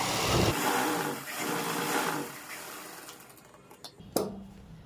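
A sewing machine stitches a lined kurti with a fast, close, whirring run of stitches that slows and fades into scattered soft clicks and a final sharp tap.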